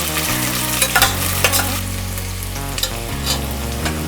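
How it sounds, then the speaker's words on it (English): Dry red chillies fry in hot oil in a pan for a Rayalaseema dry red chilli dal, giving a steady close sizzle and crackle with a few sharper pops and stirring clinks. "we don't want our dry chilies to burn, but still we want them to fry perfectly"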